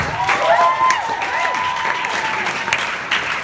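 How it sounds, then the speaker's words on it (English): A short burst of applause from a crowd at a high school graduation valedictorian speech, loud and steady, with faint voices underneath. "So give a round of applause to Josh and Matthew."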